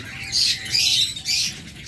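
Birds on a farm squawk in sharp, raspy bursts, three or four calls over a steady background hum, close and fairly loud.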